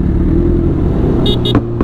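A group of Honda motorcycles, including a CBR and automatic scooters, rolls past on a crowded street with a steady low engine rumble, followed by a couple of short horn beeps near the end.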